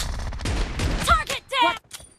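Double-barrel shotgun blasts in BGMI team deathmatch, a couple of loud, close booming shots packed tightly together, followed by brief game voice callouts.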